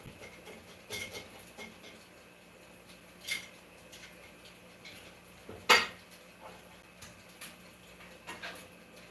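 Metal tongs scrape and clink against a pot of Thai chicken coconut curry, a few sparse clanks with one sharper knock near the end over a quiet kitchen background.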